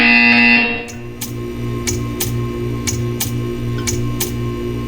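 Buzzer in the video game Portal 2; after a brief sustained tone, a series of evenly spaced short electronic buzzes pulses about once per second, clear and fairly loud.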